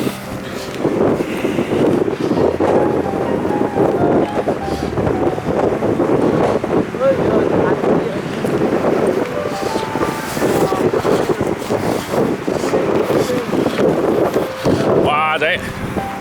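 Strong gusting wind buffets the microphone outdoors in a loud, continuous roar, while people shout and talk over it throughout.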